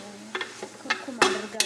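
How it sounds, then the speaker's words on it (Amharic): Carrots fry in a pot for bukhari rice while a utensil stirs them, giving a faint sizzle broken by several quick scraping strokes at close range. "ለሩዙ ደግሞ ካሮቱን እንጠብሳለን ማለት ነው።"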